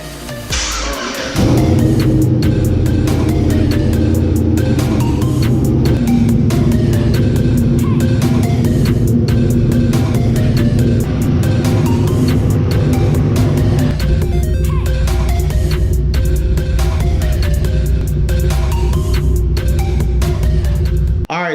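A turbocharged LS engine swapped into a Nissan 240SX runs loud and close after a brief start, holding a steady rumbling idle that shifts slightly in tone midway.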